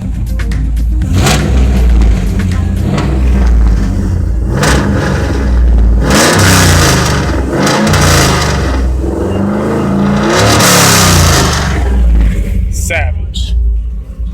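A 2002 Chevrolet Camaro SS/SLP with an LS1 V8 revs loud and close in repeated throttle blips, rising and falling in bursts over about fourteen seconds, with a steady idle rumble between pulls.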